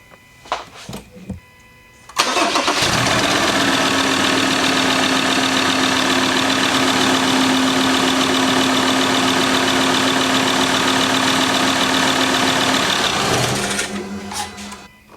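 A car's diesel engine cranks briefly then catches and settles into a steady, loud idle for about ten seconds after a fuel filter install, running alone before it is switched off.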